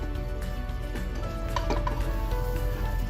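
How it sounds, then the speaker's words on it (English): Kerala-style beef gravy with coconut is stirred in a pot, giving soft scraping and clinking of the spoon against the metal over a low, continuous sizzle, close and fairly quiet. "I stir everything."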